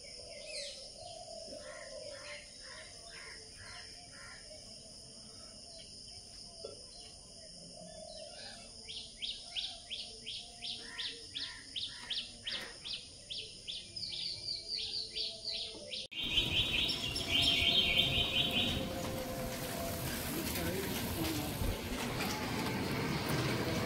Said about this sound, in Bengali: ওই গাছে টিয়া বসে আছে, টিয়া ডাকছে।